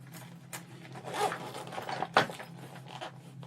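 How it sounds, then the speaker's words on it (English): A two-way zipper on a craft bag being pulled and tugged in short, uneven strokes, close and fairly quiet, with a sharper zip near the middle and no talking. "Why isn't this two-way zipper not working the right way?"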